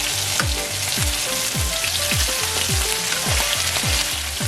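Fish frying in a pan while being turned, with a steady dense sizzle and a series of regular low clunks roughly every half second, close and loud with no voices.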